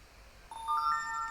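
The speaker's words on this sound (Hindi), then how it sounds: "देखिए यहाँ पे नोटिफिकेशन आ चुका है" A phone push notification alert on an Android 13 device, heard as a brief, soft chime of a few high tones rising together, with no voices.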